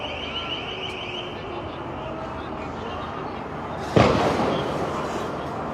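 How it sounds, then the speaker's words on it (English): A single sharp impact of bricks hitting during nighttime street unrest, a sudden loud crack that decays quickly over a steady crowd and wind din, with a speaker close by talking before and after. "That's the sound of bricks hitting."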